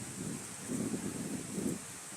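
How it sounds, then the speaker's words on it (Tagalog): Wind buffets the microphone in soft low gusts at an eco park, swelling twice over a short stretch with a faint rushing hiss behind. "Mahangin."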